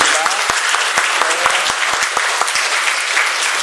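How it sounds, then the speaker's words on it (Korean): A congregation at a church summer retreat applauds to welcome a visiting pastor's family, a dense, steady wash of clapping from a large crowd with sharp individual claps standing out, loud and sustained throughout. "여러분 큰 박수로 한번 환영해 주셨으면 좋겠습니다"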